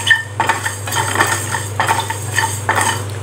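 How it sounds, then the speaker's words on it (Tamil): Whole spices, cumin, fennel, dried red chillies and coriander, are dry roasted in a pan while a metal spoon stirs and scrapes with repeated clinks and rattles over a steady low hum. "ரொம்ப கருகிராமல் மீடியமாக வறுத்தா போதும்."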